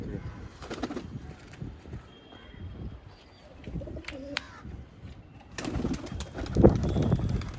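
Jack Chini pigeons coo in short soft bursts, with some scattered chirps and rustling from a loft of old line pigeons, the calls fairly close and mixed with background noise.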